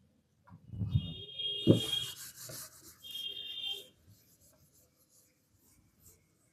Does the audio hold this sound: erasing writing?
yes